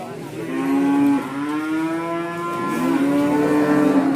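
Cattle at Prambanan cattle market low with long, loud, drawn-out moos, one call after another, close by and without talk.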